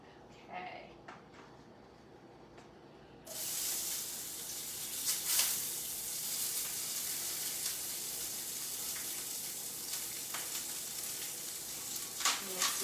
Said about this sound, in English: the onions are cooking very quickly